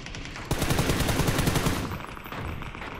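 Rapid automatic gunfire from an assault rifle in the battle royale video game PUBG, a loud sustained burst of close shots lasting over a second before easing into lingering game noise.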